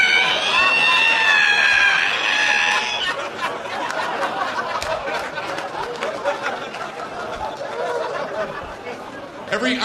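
A comedian on stage uses his voice to imitate the high, wavering squeal of an ironing board being opened, then an audience breaks into laughter and chatter.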